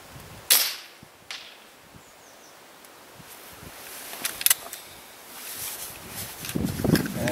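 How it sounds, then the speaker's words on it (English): Shots from a Kral PCP air rifle aimed at a target 100 metres off, with sharp cracks followed by clicks and handling noise outdoors, then rustling at the end. "Good old PCPs offer a second, very fast second shot, third shot, up until you run out of a magazine"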